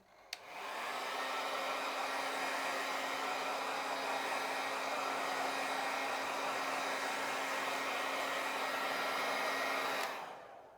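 A hair dryer runs steadily for about ten seconds, drying a leather surface after a coffee ring has been rubbed out, switching on and off cleanly with a constant close whir and no talk.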